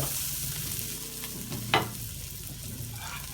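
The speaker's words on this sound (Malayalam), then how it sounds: "ഇവിടെ സവാള വഴങ്ങുന്നുണ്ട്" Onions (savala) sauté in a pan for kappa mutta biriyani, a soft steady sizzle with a single sharp clink of a utensil partway through; no talking.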